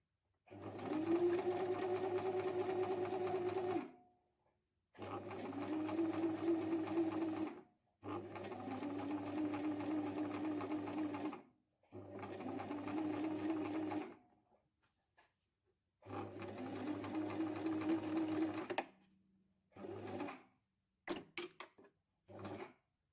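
A sewing machine stitches a fabric bag organiser in five steady runs of loud, close, rapid mechanical whirring, separated by short pauses and ending with a few brief clicks.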